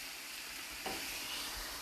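Sliced mushrooms and onions fry in a home-kitchen pan with a soft, steady sizzle and hiss, fairly quiet and close, with a brief stir partway through and no talking.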